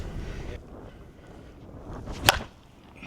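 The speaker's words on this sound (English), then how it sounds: "try to let this wind die down a little bit" Wind gusts across the microphone outdoors at a slowpitch softball field, making a low rumbling buffet, with one sharp crack near the end.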